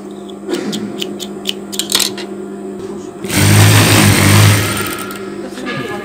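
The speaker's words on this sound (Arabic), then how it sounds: "اذا غادي نخيط الجانب الثاني." A sewing machine stitches the second side seam of a long cardigan, beginning with light clicks and taps, then running in a loud, close, steady whirring burst for about a second and a half before easing off.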